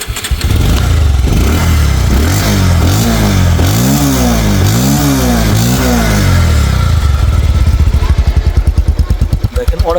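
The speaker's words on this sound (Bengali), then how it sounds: "বাইকটা স্টার্ট করবো স্টার্ট করে সাউন্ড দেখাবো দেখেন" Bajaj Pulsar 150 cc ABS motorcycle, 2023 model, starting up and running: the engine cranks and catches, then revs rise and fall in repeated loud swells before settling into a rapid, throbbing idle, recorded close.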